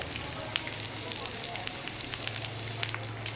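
Garlic and two dried red chillies frying in soybean oil for a yam mash, giving a steady close crackle and sizzle with scattered pops, no voice.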